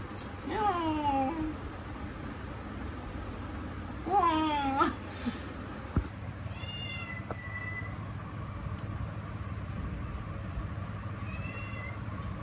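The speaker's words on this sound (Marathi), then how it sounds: "मांजरीचे पिल्लू आहे" A small kitten gives several high, wavering meows, two longer cries near the start and fainter ones later, close by over a quiet background with some voices.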